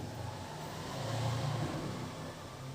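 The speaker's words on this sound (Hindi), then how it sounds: "अभी गाड़ी गई है" A car engine rumbles close by, swelling briefly as the vehicle accelerates past and then easing off.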